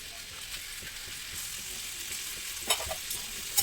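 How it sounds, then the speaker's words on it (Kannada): Potatoes frying in oil in a pan, a soft, continuous sizzle with occasional light scrapes and taps of stirring, fairly quiet and even throughout. "ಲೋ ಫ್ಲೇಮಲ್ಲಿ ನೀವು ಫ್ರೈ ಮಾಡಿ, ಯಾಕೆಂದರೆ ಅದು ತಳ ಹತ್ಕೊಳ್ಳುತ್ತೆ."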